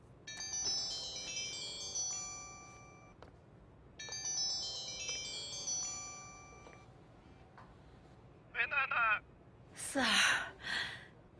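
A telephone rings over speakerphone during a call in a Chinese TV crime drama, two stretches of repeated electronic ringing tones, followed by short bursts of voices at the end.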